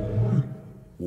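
Tiger roar from a Two Point Hospital radio ad for a zoo, one short loud growling roar followed by a brief second snarl, with no talk.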